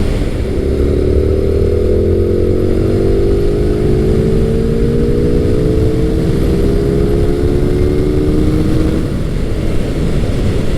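A Suzuki first-generation Hayabusa motorcycle (1999-2007 model) runs with a steady, loud engine roar that swells slowly as it accelerates. The drone carries unbroken for the whole stretch, with no talking over it.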